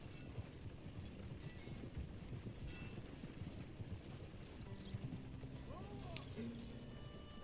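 Horse hooves clip-clop steadily in Red Dead Redemption 2, a quiet, even rhythm of hoof falls under soft wind, with faint ambient game sounds.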